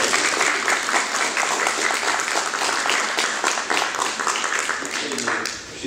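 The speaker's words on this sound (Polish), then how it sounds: "Proponuję brawami. Brawa." Members at a general meeting of a society in Mielec applaud to approve a motion by acclamation, a dense, even burst of hand clapping from a seated hall that holds steady for several seconds before tapering off.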